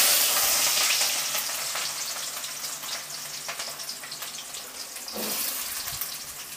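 Onions fry in a pan for tomato gojju with a bright, hissing sizzle that is loudest at first and eases slightly, with a soft clunk near the end and no speech.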